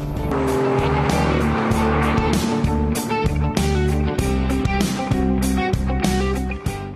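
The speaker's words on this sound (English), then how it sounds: "The new engines also sound strong and dynamic." A BMW with a new three-cylinder engine drives hard, its loud, steady engine note rising and falling through revs with a few sharp transients, dense and continuous for several seconds with no talk.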